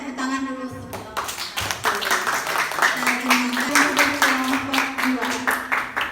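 Classroom applause for a student group after their presentation, a burst of clapping from several people running for several seconds, with voices murmuring underneath.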